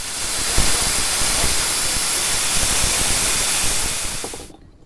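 Steam hisses loudly and continuously from the steam locomotive Brown Bear, a broad rushing roar close by that holds steady for several seconds before cutting off abruptly.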